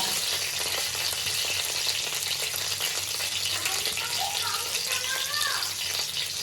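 Whole cloves, ginger and about ten garlic cloves fry in white oil for prawn biryani, a steady bubbling sizzle that stays even throughout, with a faint voice in the background.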